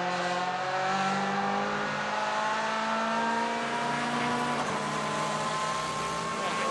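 A touring car at speed on a lap of the Slovakia Ring during practice, its engine droning loud and steady with rising and falling revs through corners and gear changes, sustained for the whole stretch.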